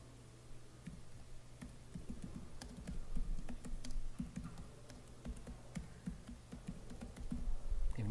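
Rapid, irregular keystrokes on a computer keyboard while entering a new cheese record into a business database, close and steady, layered over a constant low hum from a machine or room.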